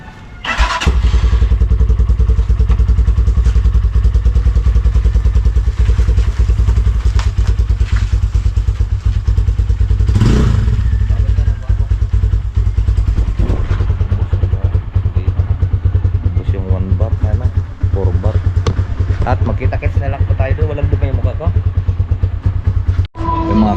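Loud motorcycle engines roar and rev continuously as bikes ride past in a group in a town fiesta parade, with rumbling exhaust, clatter and occasional voices in the background.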